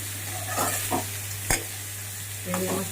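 Raw green banana dry curry stirred in a pan, a few soft scraping sweeps against the pan over a steady low hum, with a faint sizzle underneath.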